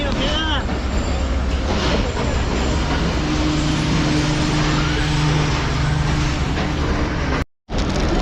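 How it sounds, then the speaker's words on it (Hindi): Shalimar Express pulling into Multan Cantt station behind locomotive ZCU 36315: a steady, loud rumble of rolling wheels and a droning engine hum, with voices mixed into the noise and a brief cut near the end. "शालीमार एक्सप्रेस भी पहुंच चुकी है मुल्तान कैंट पर"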